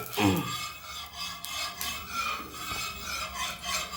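Oil being stirred and spread quickly around a cooking pan, a steady scraping and rubbing rasp that runs for the whole stretch with a few sharper strokes, close up and moderately loud.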